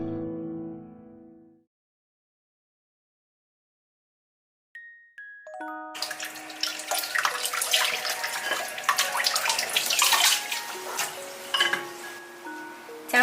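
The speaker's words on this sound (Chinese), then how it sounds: "加入适量清水" After a brief sound and a silent pause, water pours into a soup pot being cooked, splashing steadily up close, its tone rising as the pot fills.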